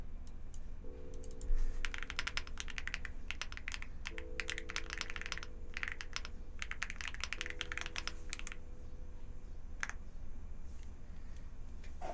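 A computer keyboard clicks in quick bursts of typing as a prompt goes into ChatGPT, with several runs of close keystrokes and short pauses between them, set against a faint steady hum.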